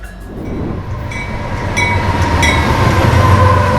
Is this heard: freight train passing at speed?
yes